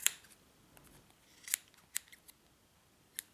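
Scissors snip through fur fabric while trimming pom poms, giving a few separate sharp cuts spread across a quiet background, close and fairly soft.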